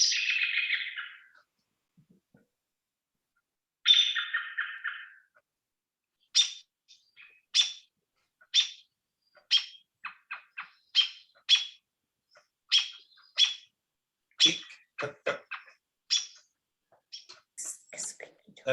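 A flock of winter birds in bushes gives short, high contact notes and chirps at an irregular rhythm, interspersed with brief buzzy calls and quiet gaps, close and clear.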